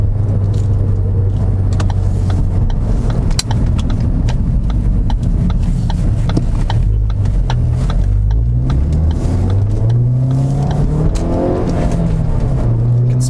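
A Ford Focus ST repeatedly speeds up and slows down while bedding in Hawk HP Plus brake pads. Loud, continuous engine drone rises and falls in pitch with road noise underneath, and no talk.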